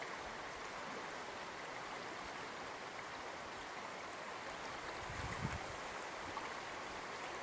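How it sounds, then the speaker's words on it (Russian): Clear mountain river rushing past a bank, a steady broadband wash of flowing water that stays constant and close throughout, with a few slightly louder splashes near the end. "Так бы сидел здесь и сидел на берегу. Наслаждался шумом воды."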